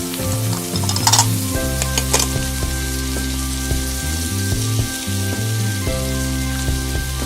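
Minnie Mouse toy kitchen playset giving an electronic sizzling sound while a toy tomato is cooked, a continuous hissing fry with tonal electronic hum underneath, loud and close, no talk.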